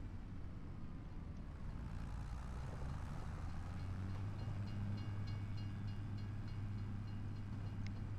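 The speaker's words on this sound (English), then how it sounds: "There's the train." A train rolls past in the video game Riverbend Springs, giving a continuous low rumble with light rhythmic clatter that holds steady at a moderate distance throughout.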